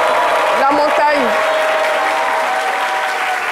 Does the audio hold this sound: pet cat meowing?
no